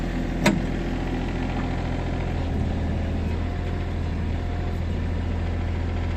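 A Hitachi Zaxis 20UR mini excavator's engine idles close by, a low, steady diesel rumble holding even throughout with one brief click near the start.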